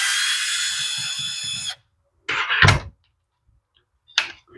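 A power driver whirs for under two seconds while removing the screws holding a Husqvarna ignition coil, then falls silent, followed by a couple of short clattering knocks and a brief scrape.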